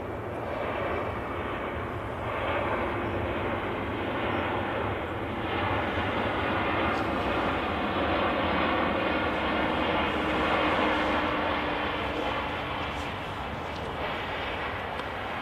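A Ryanair airliner landing on runway 05 left at Manchester Airport, heard as a steady, fairly loud broadband jet roar that swells slightly and holds for the whole stretch, with no talk over it.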